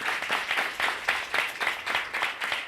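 Applause from a church congregation during a sermon: a steady run of hand claps with a pulsing, slightly rhythmic swell, fairly close and dense, with no talking over it.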